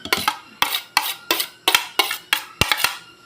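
Squid kinilaw is mixed in a bowl, seven or eight sharp clinking scrapes of a utensil against the bowl in a steady rhythm, close and clear, with no talk.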